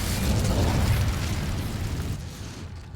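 A fire spell cast in Hogwarts Legacy erupts as a loud, close burst of flame, a dense roaring rumble that holds for about two seconds and then slowly fades, with no talk over it.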